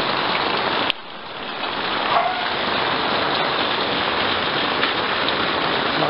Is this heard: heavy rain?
yes